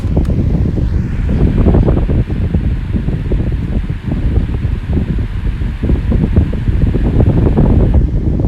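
A Master 12-inch industrial high velocity floor fan runs on medium speed, a loud, steady, close whooshing roar of moving air with buffeting rumble and no talk.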